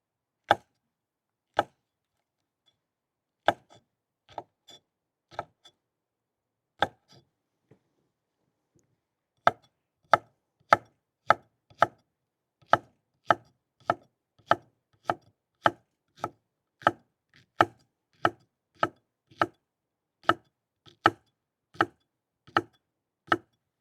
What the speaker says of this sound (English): we'll chop up 2 serrano chilies